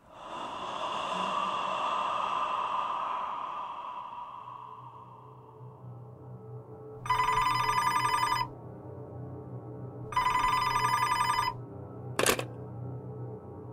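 Telephone bell ringing in two long trilling bursts with a pause between, followed by a short sharp tone, after a swelling eerie ambient wash in a dark horror setting, no voices.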